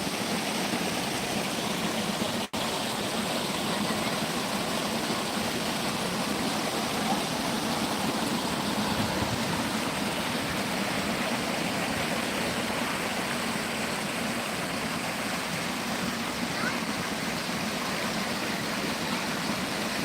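Falling water from the Aşıklar (Nebiler) waterfall in Turkey rushes in a steady, unbroken roar that stays at the same level throughout, with no voices.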